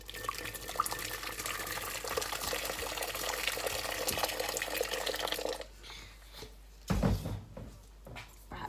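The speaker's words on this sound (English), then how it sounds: "I do put some boiling water in." Boiling water pours steadily into a pot in a home kitchen, a continuous close splashing stream that stops abruptly, followed by a clunk and quieter handling sounds.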